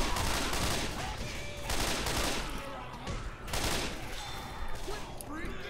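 Rapid bursts of gunfire from the video game Left 4 Dead 2 come in several loud volleys, separated by brief gaps.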